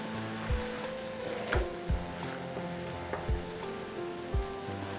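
Spinach puree mixed into a hot pan while making corn palak: a soft, quiet sizzle with occasional spoon taps and scrapes, and faint music in the background.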